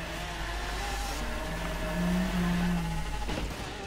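A Mercedes 300 SEL 6.3 accelerates hard in a driving game, a steady engine drone climbing in pitch and swelling slightly louder midway before easing off, with no talking over it.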